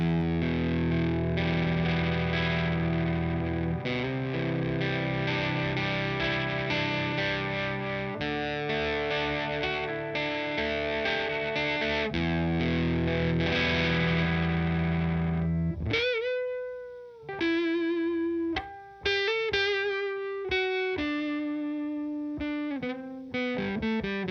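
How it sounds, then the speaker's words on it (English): Electric guitar on the bridge pickup through distortion, set to almost no sustain. Dense, loud chording gives way to short, choppy single notes that cut off quickly, with no voices. "we're back on the bridge pickup"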